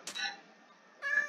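A cat in the Minecraft video game meows twice, short and soft, with a brief pause between the calls.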